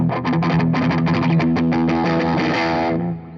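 A heavy, distorted electric guitar churns out a fast chugging riff, loud and close, ending on a ringing chord; no voices.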